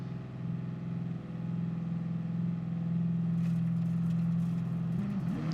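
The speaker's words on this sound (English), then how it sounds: "This car sounds really nice as well, even just like throttling over it is." Steady engine drone from a car in the GT Sport racing game, a strong low hum holding an even pitch while throttling, swelling slightly louder toward the end with a brief pitch wobble, no talking over it.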